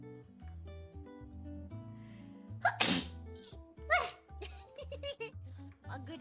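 Someone lets out two sharp, loud sneezes close by, one near the middle and another a second later, over steady background music with faint voices.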